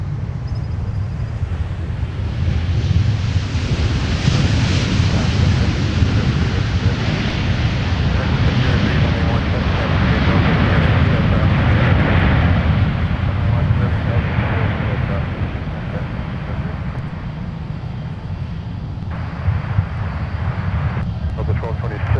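A jet airliner rolls and climbs away on takeoff from runway 17 at Minneapolis–Saint Paul airport, a loud broadband engine roar sustained throughout and slowly fading at the end, with faint radio chatter underneath.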